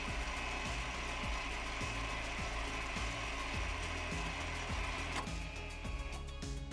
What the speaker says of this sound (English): You should hear the motors running.